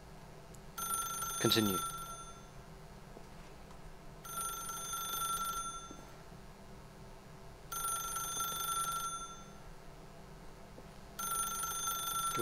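A telephone in The Stanley Parable rings in four evenly spaced bursts, each about a second and a half long, faint and steady, with a voice speaking briefly near the start.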